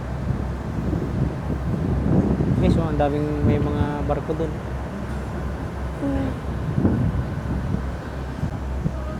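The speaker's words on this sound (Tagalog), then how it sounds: "So guys, ang lakas ng hangin." Steady, heavy wind roar buffets the microphone throughout while a person talks over it, with a faint horn-like tone in the background.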